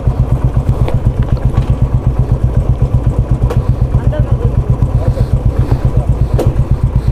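A motorcycle engine runs at a steady idle close by, its loud, even rhythmic thumping pulsing throughout with occasional light clatter and brief voices in the background.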